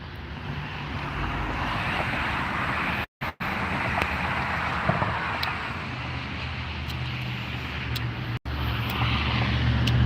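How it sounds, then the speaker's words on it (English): A 2021 Shelby GT500 5.2L supercharged V8 roars continuously, rumbling steadily with broadband exhaust noise, briefly cutting out twice, no speech. "Something about the way the exhaust is routed now is completely different to make a more aggressive"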